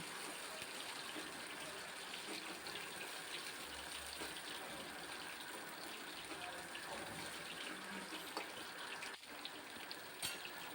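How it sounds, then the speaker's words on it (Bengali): Boiled chalta (elephant apple) frying in oil, a faint, even sizzle that hisses steadily throughout without pause. "ভালো করে কষিয়ে নিচ্ছি তেলের উপরে লাল লাল করে ভেজে নিতে হবে"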